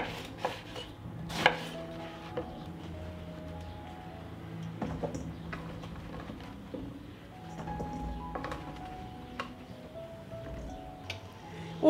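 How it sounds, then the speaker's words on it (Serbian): A knife chops eggplant into pieces on a cutting board in a steady run of light, crisp taps, close but fairly quiet, with a few louder knocks along the way. "I ovako ću ih iseći na ovakve komade. I tako ću iseći sav patliđan."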